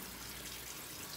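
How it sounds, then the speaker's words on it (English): An item being rinsed under a running tap, a steady faint hiss of flowing water throughout, with no talking. "So we're rinsing."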